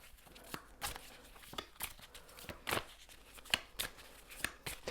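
Tarot cards shuffled by hand in a series of crisp riffling, slapping bursts, some louder than others, with short pauses between them and no talking.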